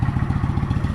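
A debaffled Kawasaki VN 900 V-twin motorcycle idles warm, a loud close, deep, lumpy exhaust burble pulsing in a steady even rhythm throughout.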